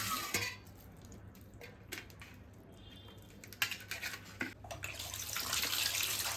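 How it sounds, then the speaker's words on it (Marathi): Chicken pieces being washed in water several times, faint running water and sloshing with soft clinks of a vessel, quiet and close, rising to a steadier gush near the end. "तर अशा प्रकारे 3-4 वेळा धुवून घ्यायचं मस्तपैकी."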